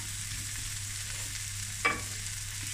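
Butter melting and sizzling in a hot pan beside chops and prawns, a steady close crackle with a low hum underneath and one brief clink near the end, no voices.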